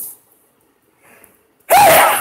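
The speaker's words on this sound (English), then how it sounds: "That sneeze is a genetic sneeze from my mother." An adult sneezes once, a sudden loud close burst after a short quiet intake of breath.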